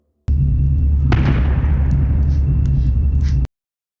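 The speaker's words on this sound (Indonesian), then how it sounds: "suara tembakan lain kembali menggema dari luar" One distant gunshot booms and echoes away into a heavy, continuous low rumble.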